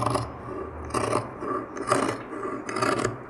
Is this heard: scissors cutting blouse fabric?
yes